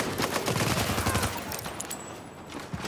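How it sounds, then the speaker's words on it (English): Automatic gunfire from The Division video game, a steady burst of rapid shots filling the first half before easing into scattered fire, loud and close with no talk. "That's it, keep shooting me."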